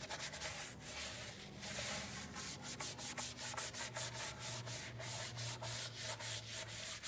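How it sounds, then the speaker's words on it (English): A rubber car floor mat being scrubbed with a brush, steady repeated rubbing strokes close up and fairly quiet, with a low hum running underneath and no talking. "As you scrub the mat, you can already see the difference."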